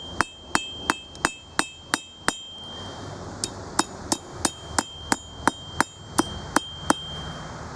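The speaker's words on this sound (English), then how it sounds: "We want to make sure each hammer stroke is the same as much as we can." A blacksmith's hammer strikes a metal bracelet in an even, steady rhythm, about twenty sharp ringing blows close up, with a brief pause midway.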